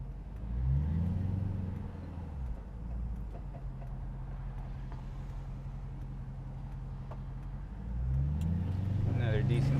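A Hemi-swapped 1971 Dodge Challenger cruises along, its V8 rumbling low and steady and swelling into a throaty rev at the start and again near the end, with the cabin noise constant underneath.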